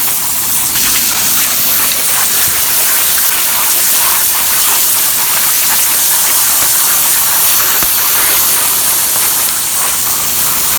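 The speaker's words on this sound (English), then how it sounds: "That's a pretty light spray for garden hose." A garden hose with the nozzle removed sprays water across an asphalt shingle roof, rinsing off bleach in a loud, steady gushing hiss that holds close and continuous throughout.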